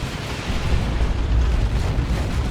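Ork turrets blow up in the Warhammer 40,000 game Dawn of War 2 during a Space Marines versus Orks match, giving a loud, sustained rumbling explosion that fills the whole stretch with dense low booming.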